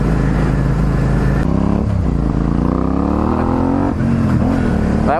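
A Suzuki SV650 motorcycle engine revs hard at full throttle, a loud, steady, close-up roar with its pitch climbing, dropping briefly, then climbing again as it pulls through the gears.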